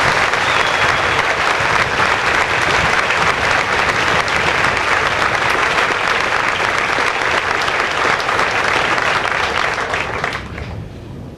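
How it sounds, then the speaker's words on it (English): Loud, dense applause from a large audience at a 2006 Fort Jackson Army basic training graduation, a sustained roar of many hands clapping for the drill sergeant cadre before tapering off abruptly at the end. "Please join me in a round of applause for the Drill Sergeant Cadre of 313 Infantry."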